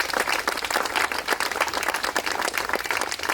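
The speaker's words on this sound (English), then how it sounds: "And so I want to just take a minute and give a round of applause for Glenn and his team." Applause from a crowd at a ribbon cutting ceremony, dense and steady clapping from many people that stays loud throughout.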